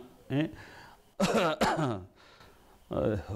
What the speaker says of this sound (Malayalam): ഇടയ്ക്ക് ചുമയൊക്കെ ഉണ്ടാവും കേട്ടോ